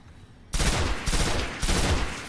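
Heavy gunfire from the Destiny video game: three loud, abrupt bursts roughly half a second apart, each a sharp crack followed by a rumbling tail, standing out over faint background ambience.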